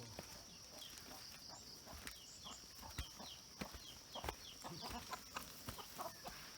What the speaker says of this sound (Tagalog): Yung mga manok guys oh.